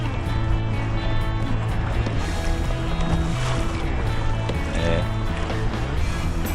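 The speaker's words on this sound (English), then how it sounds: "These waves are psycho." Rough waves pound a small fishing boat with a constant loud, close wash of water and spray. The heavy rumble of the hull runs underneath it with no break.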